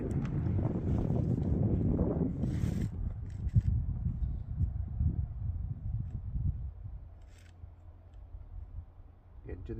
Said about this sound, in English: Oh boy, there's that wind.